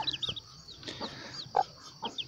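A white free-range hen clucks softly beside her newly hatched chicks, low clucks mixed with a chorus of high thin cheeping peeps, close and quiet, with no talk.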